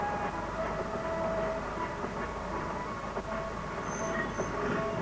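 A train runs steadily along the rails in an audiobook sound effect, a dense continuous rumble with faint clatter and occasional high squeals, with no voices present.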